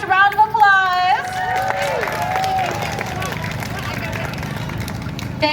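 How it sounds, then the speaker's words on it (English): An audience claps and cheers after a Bharatanatyam solo dance performance. Dense applause and crowd noise fill the clip, and a voice speaks over the start. "One last round of applause."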